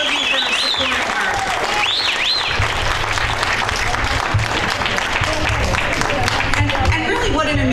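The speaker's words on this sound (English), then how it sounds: "Let's have a round of applause for Gail." A crowd applauds steadily and loudly throughout, a dense wash of clapping with a few high cheers or whistles near the start.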